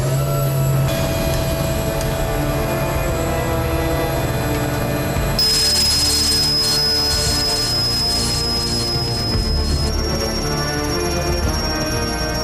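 A super-large 4,500-horsepower cargo helicopter engine at a 980 m mountain work site gives a loud, continuous turbine roar with a high whine that shifts in pitch partway through, with no talking.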